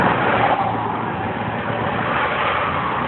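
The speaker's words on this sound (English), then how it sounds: "There's all kinds of people driving around out here." Road traffic rumbles along, cars and engines droning steadily at mid distance with a continuous wash of tyre and motor noise and no clear breaks.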